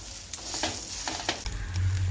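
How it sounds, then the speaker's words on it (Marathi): Instant veg dosa frying on a pan with butter, ghee or oil added at the side, a steady soft sizzle with a few scraping and tapping sounds as it is turned. "आता त्याच्यावर बटर घाला तूप घाला तेल घाला तुमच्या आवडीनुसार थोडंसं घालून घ्या साईडने आणि त्याला असं छान पलटवून घ्यायचं"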